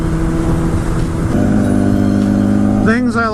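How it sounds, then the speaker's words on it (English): A Honda Repsol 1000cc motorcycle exhaust holds a loud, steady engine drone with layered harmonics, then revs sharply near the end with rising pitch sweeps. "My God, man, that exhaust is both awesome and annoying."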